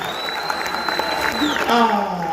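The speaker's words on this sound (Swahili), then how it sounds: "Hebu tuwapigie makofi hawa mama wawili jamani." A live audience applauds two women at a comedy show, a steady wash of clapping that runs through the whole moment and swells slightly near the end, with some tonal sound underneath.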